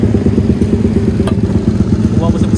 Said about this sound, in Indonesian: aku bukan berani sangat bawa motor ni